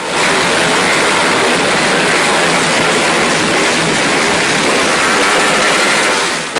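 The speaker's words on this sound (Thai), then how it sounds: "เพื่อนๆพากันมาบิดรถจักรยานยนต์เร่งเครื่องดังสนั่นวันไหวไปทั่ววัด" Several motorcycles revving hard together at a Thai temple funeral, forming a loud, unbroken roar of engines that stays close and constant throughout.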